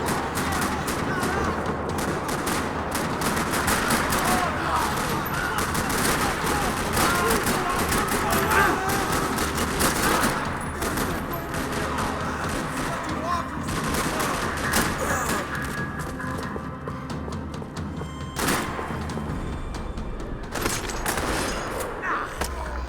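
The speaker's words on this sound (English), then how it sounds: "Another parking lot rattling with gunfire." Video game gunfire in a parking lot, with dense, sustained rattling bursts of automatic fire and thuds packed together, loud and continuous with brief lulls near the end, and voices mixed in.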